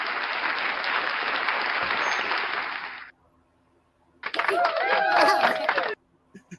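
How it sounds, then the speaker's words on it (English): An audience claps in two bursts: a dense, steady round of applause that cuts off abruptly, then after a short pause a second, louder round with some whoops and cheering mixed in. "They're clapping for me."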